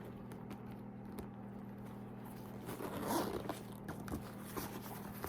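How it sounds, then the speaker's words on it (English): Zipper on the front pocket of a purse, a bucket-style handbag, opened in one smooth pull, close and fairly faint over a steady low hum. "It does have a front zip here."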